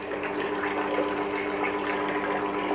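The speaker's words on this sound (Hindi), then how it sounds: "कूलर चलने के बाद देखिए पानी आ रहा है ऊपर से" An air cooler running with water pouring down from its top gives a steady, close rushing and splashing sound over a low motor hum, continuous throughout.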